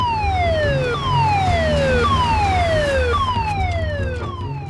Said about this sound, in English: The assembly siren is about to sound.